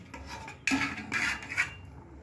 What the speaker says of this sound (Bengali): এবার একটা পাত্রতে আমি ঢেলে দিয়ে সাজিয়ে দিচ্ছি